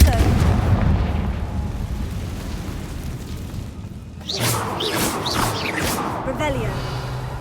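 Confringo fire spell explosions in Hogwarts Legacy, a rumbling blast fading out over several seconds, then a fresh burst with whooshing, crackling fire effects and bright magical tones, moderately loud amid game ambience.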